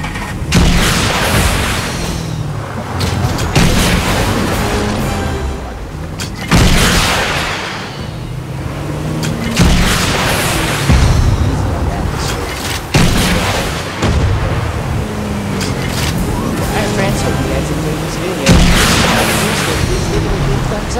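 Motorboat missiles blasting structures in the Fortnite video game, a dense, loud run of booming explosions and gunfire-like bursts repeating every few seconds throughout, with game sound filling the whole stretch.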